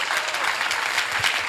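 Church congregation clapping in an Assemblies of God service in Caracas, a loud, dense and continuous patter of many hands with brief accented claps, no talk heard.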